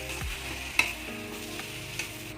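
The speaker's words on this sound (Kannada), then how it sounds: "ಸೊ ಇದನ್ನೆಲ್ಲ ಇವಾಗ ಚೆನ್ನಾಗಿ ಫ್ರೈ ಮಾಡ್ಕೊತಾ ಇದ್ವಿ" Spiced mixture with tamarind juice frying and sizzling in a pan, a utensil stirring and scraping steadily with a couple of sharper clinks, close and continuous with no talk.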